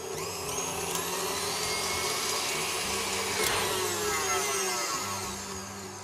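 A steady, fairly quiet whir from an electric mixer beating cake lace mixture on high speed, holding a constant hum throughout with no talking.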